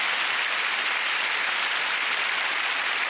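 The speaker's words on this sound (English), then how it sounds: "Give her a big round of applause" A studio audience at the 2002 Lily Savage's Blankety Blank game show applauds in a dense, even roar of clapping that stays constant throughout with no break.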